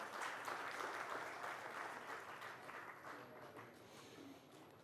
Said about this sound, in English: Can we have a round of applause for both the gentlemen?